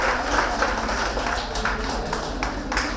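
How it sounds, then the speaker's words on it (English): An audience claps steadily for Rupa Murthy, named second runner-up at an award announcement. The dense, even applause fills the whole stretch with no voices over it. "Have a big round of applause for Rupa."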